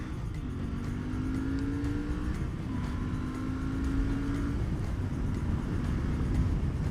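A Royal Enfield Bear 650 motorcycle accelerates through its gears, the engine note rising in repeated long pulls with short breaks between shifts, steady and fairly close over rushing wind.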